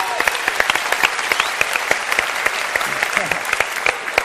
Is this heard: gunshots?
no